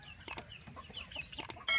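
An upgraded native rooster weighing around 2.8 to 3 kilos gives a few short, sharp clucks and calls at a backyard poultry pen after a typhoon, close by and fairly faint.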